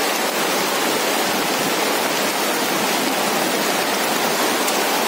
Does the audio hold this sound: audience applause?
no